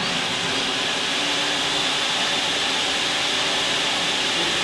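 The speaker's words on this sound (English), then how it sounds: "So, the vacuum is going to be running." A Dynamic Diamond Vacuum DDV 26 or 36 runs steadily, with a constant broadband rushing roar and airy hiss that stays even throughout, close and loud, with no voices.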